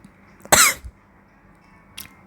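A single sharp, close cough from a lone person, followed by a faint, brief throat sound about a second and a half later against a quiet background.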